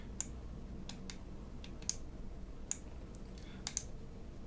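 Computer mouse clicks while selecting a baseball bat in a game-editor scene, about half a dozen sharp, isolated ticks spaced unevenly over quiet room tone, close and clear with no speech.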